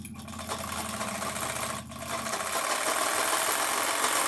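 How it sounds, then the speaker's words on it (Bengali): An electric sewing machine stitches a kantha cover with a fast, steady mechanical whir, briefly pausing and then running on continuously and loudly up close. "এখানে আমি সেলাই করে নিচ্ছি"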